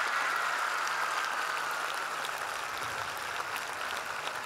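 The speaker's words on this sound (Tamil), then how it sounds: "உங்கள் அம்மாவுக்காக ஒரு தடவை கைத்தட்டுங்க" An audience at a Women's Day celebration in 2019 claps for their mothers, a steady, dense burst of applause in a large hall that fades slightly toward the end.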